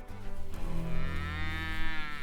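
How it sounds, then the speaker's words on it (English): Cattle on a ranch range mooing, one loud, close, drawn-out low moo that swells and holds for over two seconds, with no talking. "These are some of my cows."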